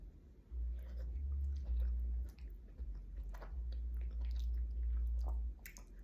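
Soft baked sweet potato being chewed close up, with quiet squishy mouth sounds and small bites over a low steady background hum, no talking.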